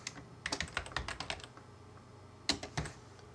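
A computer keyboard shortcut is typed during music notation work in Sibelius on an Apple computer. A burst of quick, soft close key taps comes first, then a pause, then a couple more taps, with no talking.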